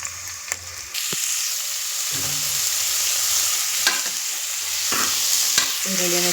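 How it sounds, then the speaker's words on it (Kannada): Onions sauté in a pan for a fish head curry, with a loud, steady bright sizzle broken by several sharp spatula scrapes and knocks against the pan. "ಈಗ ಈರುಳ್ಳಿಯನ್ನು ಕೂಡ ಸೇರಿಸಿ ನಾವು ಚೆನ್ನಾಗಿ ಬಾಡಿಸೋಣ."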